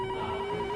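A phone ringtone rings steadily with a sustained electronic tone, heard briefly and clearly on its own.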